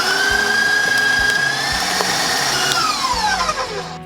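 An electric mixer beats sugar into a cream cheese base in a bowl, a loud steady whirring motor with the pitch slowly sagging and then dropping off as the speed winds down over a few seconds.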